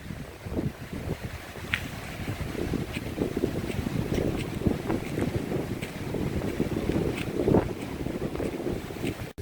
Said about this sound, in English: I'm going to show you a windy day here in Ontonagon.